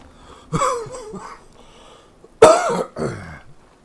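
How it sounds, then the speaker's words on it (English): Two harsh, close coughs from a sick person, each a sharp burst followed by a raspy, wheezy tail, separated by a quiet pause. "So I will cough from time to time."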